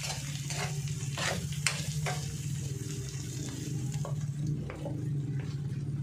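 Bitter gourd (ampalaya) fries in a pan with a steady close sizzle, while a utensil stirs it in repeated scraping strokes. No one speaks.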